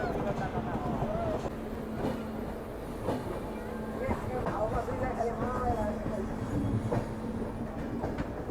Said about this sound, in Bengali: এই মুহূর্তে আমার ট্রেন ছেড়ে বেরিয়ে যাচ্ছে শিয়ালদহ রেলওয়ে স্টেশন থেকে